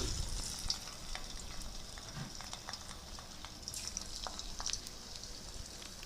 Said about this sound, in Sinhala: දැන් අපි භාජනයක් ලිපේ තියලා තෙල් රත් වෙනකොට ටික ටික දාලා බැද ගන්නවා.